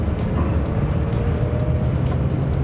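A gated-manual V10 Lamborghini slides in second gear on snow without snow tires, its engine a steady, close, continuous low drone.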